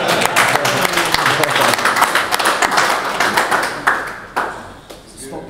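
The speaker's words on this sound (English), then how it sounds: "Stop bloody booing me then." Loud crowd at a post-fight heavyweight boxing press conference for Whyte v Parker, a dense, continuous wash of jeers and noise with scattered claps throughout, swelling and dipping but never stopping.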